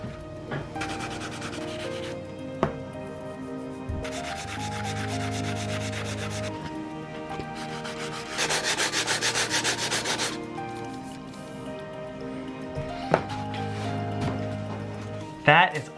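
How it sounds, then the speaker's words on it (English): Rhythmic back-and-forth rubbing of sandpaper on a wooden guitar neck, repeated strokes in several stretches with short pauses, close and moderately loud, with a person talking at times. "I'm gonna go in and sand the neck down"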